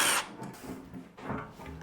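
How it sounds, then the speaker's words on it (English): A power drill bores through material while an off-grid solar system is assembled near an inverter: a loud whine at the start, then a few shorter, rougher bursts, close by with no talk. "I gotta drill out this side next."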